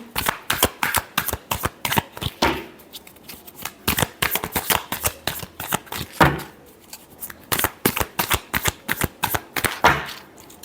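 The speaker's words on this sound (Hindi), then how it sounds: "Last shuffle." Tarot cards shuffled by hand close up, a quick run of crisp riffling flicks in bursts with brief pauses between rounds.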